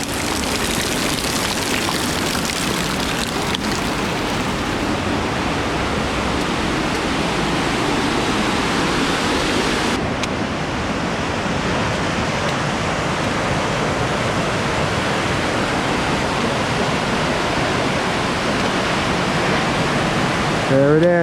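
Tunnel Falls on an Oregon hiking trail sends up a steady, broad roar of falling water that fills the scene continuously, with rain mixed in and a brief shift in tone partway through.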